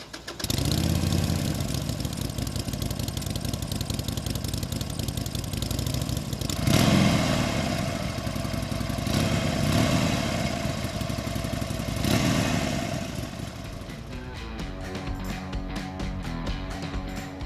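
A 2016 Harley-Davidson Forty-Eight motorcycle engine runs with a steady, fairly subdued V-twin rumble, swelling in a few short revs before settling back toward idle near the end.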